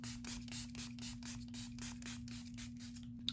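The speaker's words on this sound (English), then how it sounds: "I set my face with the Milani setting spray." A Milani setting spray bottle spritzes a face close up in a quick, steady series of about a dozen short hissing bursts, over a faint low hum.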